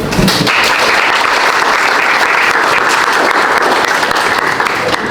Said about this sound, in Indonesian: Bisa ngasih tepuk tangan dulu?